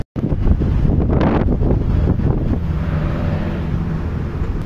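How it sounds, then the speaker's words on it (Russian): Strong seaside wind gusting up to 20 m/s at Anapa on the Black Sea, a loud continuous roar buffeting the microphone throughout with rumbling low gusts, and no voices. "Эх, нехило так ветер заворачивает."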